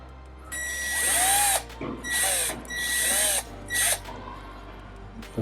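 A handheld power drill spins a small buffing pad against a Royal Enfield 650 twin engine, whining in several loud bursts of about a second each, separated by short pauses and low idle hum.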